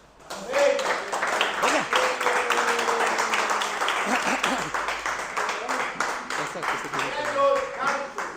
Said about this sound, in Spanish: ¿Qué les parece si les damos un aplauso a Yolene y a Alejandro?